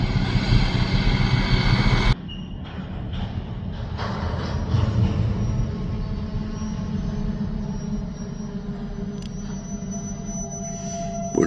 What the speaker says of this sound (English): Would appear the train is moving.